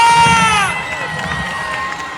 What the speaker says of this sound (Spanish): Ese aplauso y grito arriba.